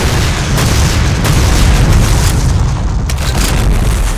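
Explosions from the military shooter video game WarRock roar as a loud, sustained rumbling boom, dense low-end blasts washing over the whole stretch with a few sharper bursts.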